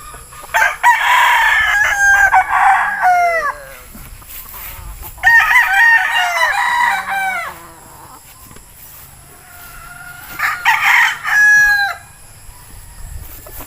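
A Yellow Legged Dutch gamefowl broodstag crows three times, each long call loud and close, separated by brief pauses.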